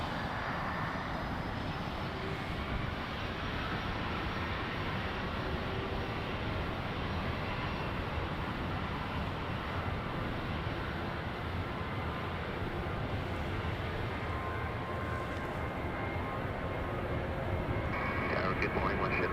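WestJet airliner taking off, a broad steady roar of jet engines that holds loud and unbroken throughout, with no clear rise or fade.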